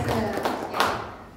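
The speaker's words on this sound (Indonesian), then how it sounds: "Oke, tepuk tangan dulu dong buat sel." Audience at a health seminar in the Hotel Grand Imawan claps in a short burst, with a few louder, sharper hand slaps standing out from the close, busy patter.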